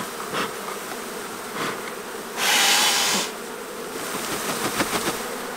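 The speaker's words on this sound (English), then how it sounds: "That's a whole lot of nurse bees" A steady buzz of many honey bees, nurse bees, droning close by, with a brief louder rustling burst in the middle.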